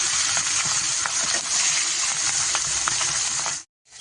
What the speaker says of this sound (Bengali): লাল লাল ভেজে নেব